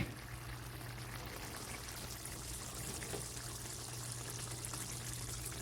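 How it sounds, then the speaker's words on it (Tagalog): Tomato sauce pours into a pot of pork menudo as a faint, steady liquid stream over a constant low hum, with no voices. "Lagyan na po natin ng tomato sauce."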